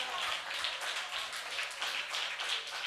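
A church congregation at a Tamil worship service claps together in a steady, rhythmic beat that fills the room, loud and continuous throughout.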